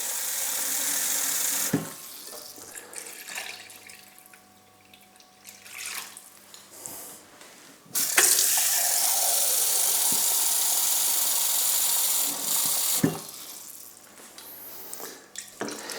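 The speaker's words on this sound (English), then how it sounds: "So I'm just getting a bit of water in there." Cold water runs from a kitchen tap into a pot of slow-cooked ox cheek beef stew, a steady loud rushing pour lasting several seconds between quieter stretches, with no talking.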